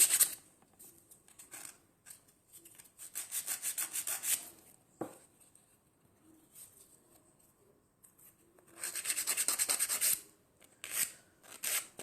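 Coarse-grit sandpaper rasps against a wooden piece being shaped, in bursts of quick back-and-forth strokes separated by quiet pauses, one sharp knock in the middle, and a long vigorous run near the end.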